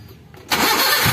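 A Daihatsu Gran Max van engine with a newly installed ECU cranks briefly, then catches and roars into a steady, loud idle close by.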